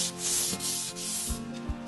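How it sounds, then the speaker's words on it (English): Close, rhythmic scratching of sandpaper rubbed back and forth along the grain of a wooden pallet, several strokes in quick succession with no talking. "We're first going to start by sanding the palette in the direction of the grain"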